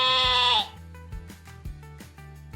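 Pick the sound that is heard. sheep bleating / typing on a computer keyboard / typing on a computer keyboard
sheep bleating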